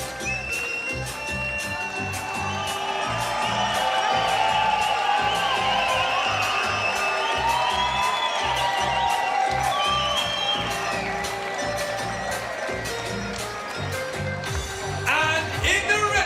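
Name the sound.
crowd cheering as a fighter is announced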